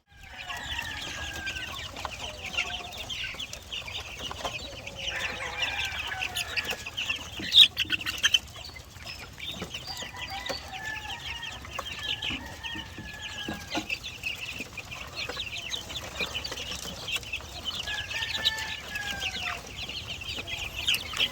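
Young chicks on a farm chirp in a continuous high peeping chorus, with clucking and occasional wing flaps mixed in, fairly close and steady throughout with no talk.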